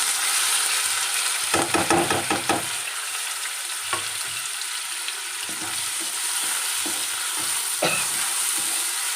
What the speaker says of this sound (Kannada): ಈಗ ಟೊಮೆಟೊ ಈರುಳ್ಳಿಯನ್ನು ಹಾಕೊಂಡು ಫ್ರೈ ಮಾಡ್ಕೊಳ್ತೇನೆ.